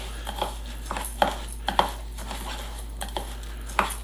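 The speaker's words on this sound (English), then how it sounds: "now we want to stir that up, get that on everything" Seasoning is stirred through food in a bowl to coat it evenly, with a quiet run of scraping strokes and a few sharper clicks of spoon against the bowl.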